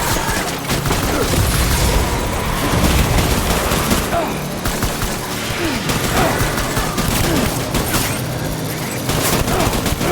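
Sustained gunfire in the video game Death Stranding, loud, dense bursts of shots and booms rattling on without pause, mixed with game effects and occasional voices.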